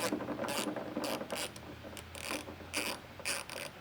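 A ratchet loosens a bolt inside a closed car trunk, its rapid clicking pawl coming in repeated bursts of spinning, muffled and fairly faint.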